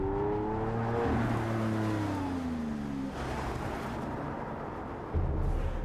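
A Lamborghini Aventador supercar engine roars loudly and steadily, its pitch sliding and shifting as it revs, then swells into a louder burst near the end.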